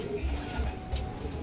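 Racing pigeons coo in low, soft repeated pulses as the birds arrive together during a training flight, heard close over a steady background hum.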